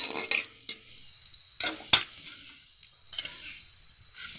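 Onion fries in a pan while cooking bottle gourd greens, giving a soft, steady sizzle broken by a few sharp scrapes and clinks of a spatula stirring against the metal.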